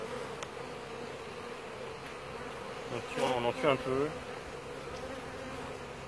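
Honey bees buzzing around an open hive during a July honey harvest, a dense continuous drone with a brief louder burst near the middle as a voice speaks over it.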